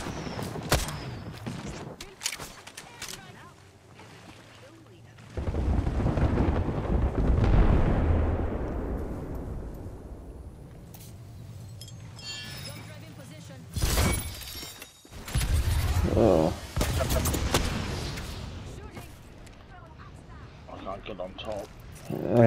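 Gunfire from the Apex Legends video game, with sharp shots in the opening seconds, then long loud bursts of shooting and blasts that swell, cut off and return, mixed with game effects.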